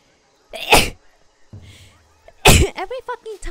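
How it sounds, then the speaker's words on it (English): A person sneezes sharply and loudly, then a second harsh sneeze follows a couple of seconds later, with faint background sounds between and brief speech-like vocal noises right after, during a Call of Duty: Vanguard gaming session. "Why the fuck do I always sneeze?"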